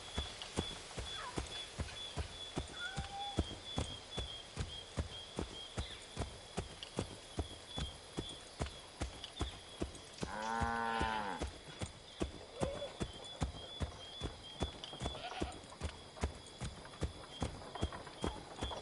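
Steady rhythmic clip-clop of a horse's hooves while riding in the Assassin's Creed 3 video game, regular and fairly close throughout, with a brief horse whinny partway through.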